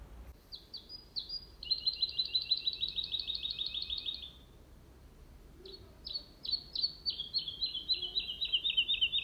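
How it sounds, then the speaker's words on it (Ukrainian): A bird sings rapid, high trilling phrases in two bursts separated by a short pause, clear and fairly close with no voices. "Так, співає жайворонок."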